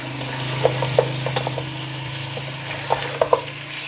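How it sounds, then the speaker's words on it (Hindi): Chicken pieces with garlic and ginger frying in a pot for a pilaf, a steady low sizzle with scattered scraping and clinking from stirring. "इसको मैं लहसुन और अदरक के साथ फ्राई करूँगी"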